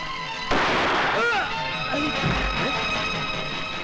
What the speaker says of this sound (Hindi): गोली किसने चलाया था?